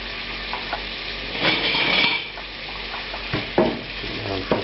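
Onions fry in clarified butter in a pan on moderate heat, a soft steady sizzle with occasional stirring scrapes and light utensil clinks, heard close and fairly quiet.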